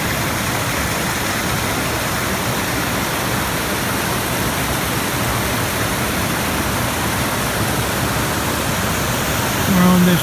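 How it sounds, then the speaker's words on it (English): Mountain water rushing down beside the Chimney Tops trail near Gatlinburg, Tennessee, a steady broadband roar holding constant and fairly loud for the full stretch, with no voices over it. "Water's coming down from the mountain."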